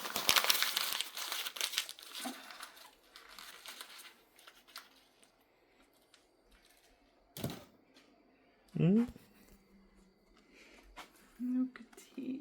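Paper crinkling and rustling as a present is unwrapped, a dense burst of crackle at first, then scattered quieter rustles and a few brief handling knocks, with voices speaking faintly in the background.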